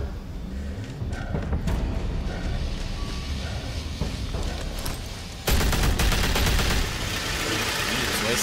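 Dense gunfire in the Batman Telltale Series video game: rapid, overlapping machine-gun bursts crackle continuously, jumping louder for about a second partway through before settling back into sustained firing.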